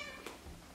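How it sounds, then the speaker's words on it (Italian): A cat gives a single faint short meow while being offered a small piece of plain chicken, heard quietly over low room noise. "Diamo un pezzetto di pollo a Gatto Denver."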